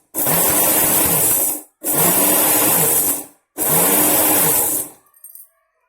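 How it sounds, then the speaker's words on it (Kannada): A mixer grinder coarsely grinds dry coconut chutney on reverse pulse: three loud, close whirring bursts of about a second and a half each, separated by short silences, then a brief rattling wind-down. "ತರಿಯಾಗಿ ರುಬ್ಕೋತೀನಿ ರಿವರ್ಸ್ ಪಲ್ಸ್ನಲ್ಲಿ."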